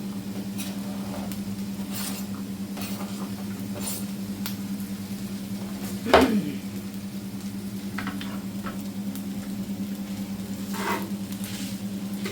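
Vegetables fry in a pan for beef fried rice, a constant low hiss held over a steady hum, with one sharp clink of a utensil on the pan partway through.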